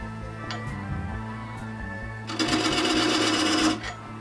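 Wood lathe spinning a piece of spalted oak at low speed, around 500 RPM, with a steady mechanical hum. It turns to a louder rasping cut about halfway through, then eases off.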